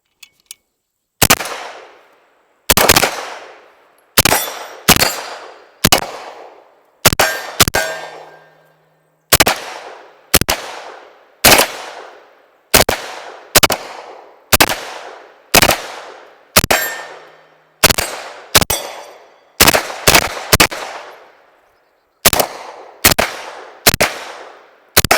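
A pistol caliber carbine fires a full magazine outdoors: about twenty loud, sharp shots in an uneven slow rhythm, each cracking and ringing briefly before the next.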